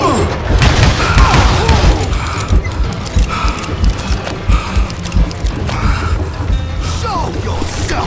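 Dynamite explosions in the Call of Juarez Gunslinger video game, with loud, dense booms and thuds layered over a constant rattling, mechanical din of combat.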